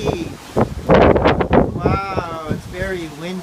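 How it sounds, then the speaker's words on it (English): Strong wind buffets the microphone outdoors in loud gusts, with a voice talking over the rushing noise. "Wow, it's very windy."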